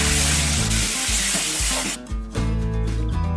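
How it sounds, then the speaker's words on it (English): Butter, corn flour and milk sauce is stirred in a pan, giving loud close scraping and sizzling strokes in an uneven rhythm, with a brief pause partway through. "You need to stir it well until the mixture thickens."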